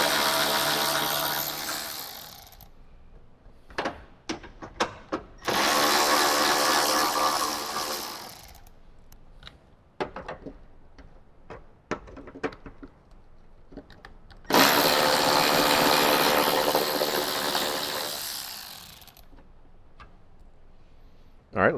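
Power tool removing headlight bolts on a Toyota 4Runner: three close bursts of whirring, each a few seconds long, with quieter clicks and handling noises between them and faint talk in the gaps.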